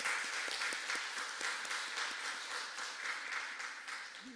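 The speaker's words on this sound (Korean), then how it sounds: "하나님께 영광의 박수 올려드리겠습니다" A Korean church congregation at a Sunday daytime worship service claps in a steady, evenly paced rhythm, the many hands close and lively before easing slightly near the end.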